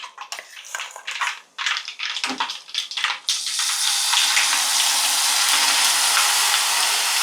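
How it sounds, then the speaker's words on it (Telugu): Ground tamarind hits hot oil and sputters, starting with scattered pops and stirring, then bursting into a loud, continuous spitting sizzle that holds close and steady to the end. "ఈ చింతపండు మనం ఈ ఆయిల్లోకి వేసేద్దాం"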